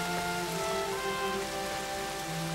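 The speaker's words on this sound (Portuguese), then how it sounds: "A chuva continua." Steady rain falls in a World War I documentary setting, a dense, continuous hiss of drops on a surface with a low rumble beneath, even and unbroken throughout.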